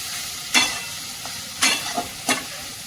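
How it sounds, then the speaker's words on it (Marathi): Cabbage stir-fried in a pan, with a steady sizzle and several sharp scraping bursts of the spatula turning it, close and fairly loud with no talking. "आणि असं छान परतून घ्यायचं आहे थोडं परतवत राहायचं"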